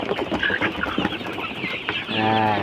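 Chickens clucking and murmuring close by, a steady busy stretch of short clucks, ending with a longer drawn-out call.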